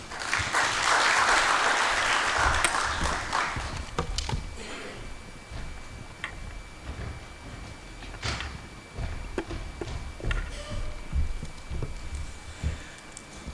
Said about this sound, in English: that muffled hand clapping